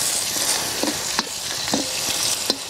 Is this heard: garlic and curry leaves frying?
yes